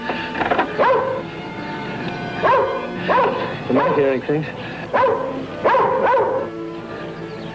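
A hunting dog barks several times in short yelping bursts, mixed with a person speaking briefly nearby, in a 1957 radio drama.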